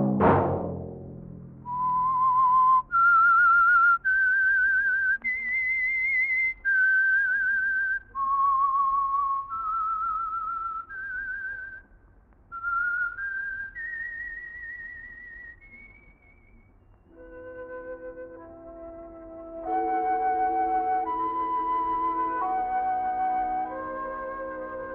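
A lone whistler performs the theme signal of The Whistler radio program, a clear, slow, eerie melody of held notes stepping up and down, followed by orchestral chords picking up the tune.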